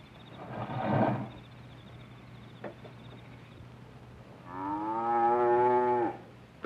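Dairy cows on a farm low loudly, with a rough, breathy moo first and then a long, drawn-out, tonal bellow a few seconds later, both close and clear over a steady low hum.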